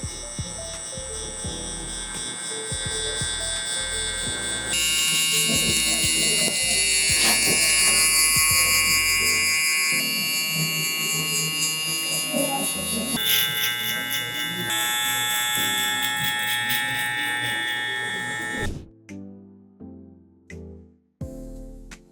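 Electric hair clippers with no guard and the lever open cut hair during a high taper haircut, a steady close buzz that swells and dips as the blades move, then breaks into short bursts near the end.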